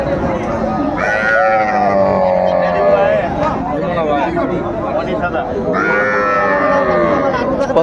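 Cattle low and young bulls and heifer calves bleat amid a busy livestock market in Kurigram, Bangladesh, with people chattering and calling over the animal sounds throughout.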